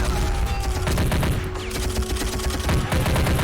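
Close, dense gunfire exchange in the strategy game Army Men of War: a rapid fusillade of overlapping rifle and machine-gun bursts that keeps up steadily for the whole stretch, with no voices over it.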